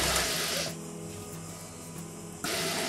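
A sewing machine runs continuously while stitching the crotch seam of palazzo pants, a steady close mechanical whir with a brief change in pitch midway and a slight restart near the end.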